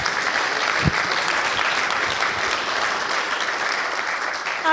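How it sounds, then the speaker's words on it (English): A round of applause at the Encore Awards 2008 ceremony for Target Television, dense sustained clapping from a large crowd filling the room evenly, with one brief low thump near the start. "So I think a nice round of applause for Target Television as well."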